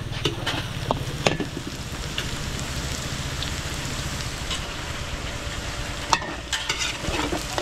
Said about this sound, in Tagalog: patostayin muna natin yung bawang natin